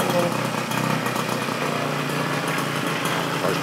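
Puch Maxi N moped engine runs with a high, buzzing two-stroke drone that holds steady and close, while people talk over it.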